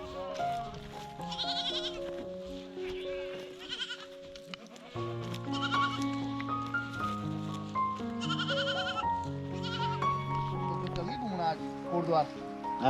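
A large flock of sheep and goats bleats continuously in the Shivalik hills of Uttarakhand, many overlapping calls both near and far, loud and dense throughout, with people talking underneath.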